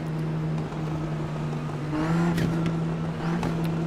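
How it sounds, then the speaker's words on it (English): A turbocharged race car engine in the iRacing sim game drones steadily with a constant low hum, the revs rising briefly midway with a faint whistling whine. "Listen to that turbo."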